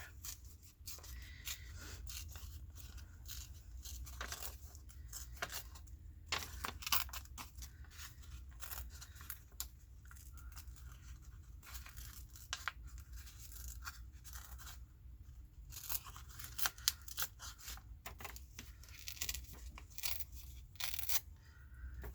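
Paper is torn by hand to make a ripped edge while decorating a farm journal, giving soft, close, intermittent tearing and rubbing sounds over about twenty seconds of quiet background hum.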